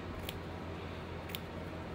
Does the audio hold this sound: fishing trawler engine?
no